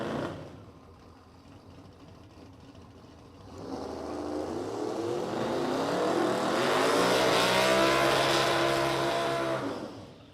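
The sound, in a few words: race cars of the 450-ish category at the motorplex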